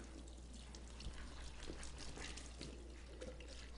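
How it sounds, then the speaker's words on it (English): Water from a tap runs steadily over cashews being rinsed in a kitchen, a soft continuous pour and trickle heard close and quiet, with no talking. "I'm going to rinse this out and just run some water on this real quickly."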